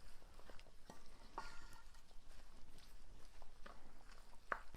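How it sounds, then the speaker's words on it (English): Chopped dandelion greens stirred into a pan, a soft, faint sizzle with light scraping and a few small clicks of a utensil, fairly quiet throughout. "we'll go ahead and stir it all in there"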